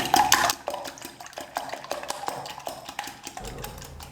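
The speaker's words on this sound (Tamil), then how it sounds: "ஒரு 2லேருந்து 3 நிமிஷத்துக்கு நான் முட்டையை அடிச்சிக்கிறேன்." Eggs beaten in a bowl for a Tamil snack recipe, a close, quick run of light taps and wet sloshing strokes with uneven rhythm.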